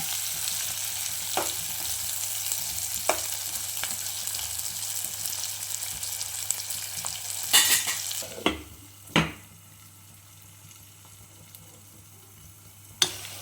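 Capsicum cooks in a pan, with a steady quiet sizzle throughout and a few sharp utensil knocks and stirring scrapes.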